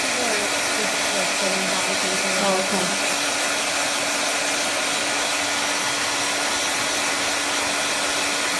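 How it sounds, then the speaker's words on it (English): A small Chi spot dryer for dogs blows on a cat at close range, a steady hissing whir that runs throughout while a voice briefly speaks over it. "this little dryer is a chi dryer for dogs. It's called a spot dryer."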